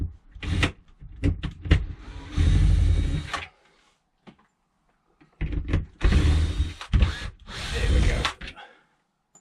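A power drill whirs in bursts as it removes screws from a motorhome rooflight, several short spins then longer runs with pauses between, up close. A voice speaks briefly.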